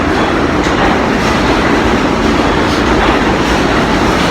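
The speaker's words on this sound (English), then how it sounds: "These trains are off the charts." A train passes close by as a loud, steady rumble and rush with faint rhythmic clatter running unbroken throughout, no voices.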